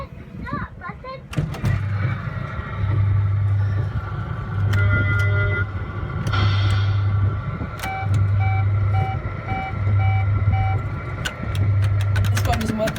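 An RG Mitchell Mitch the Dumper Truck coin-operated kiddie ride starts up with a regular cycle of low electronic pulses and higher beeping tones, repeating evenly at close range alongside some background clatter.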